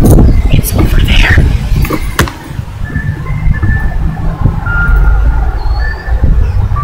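A truck's reversing alarm beeps steadily in a repeating pattern under close, loud talk and passing traffic noise.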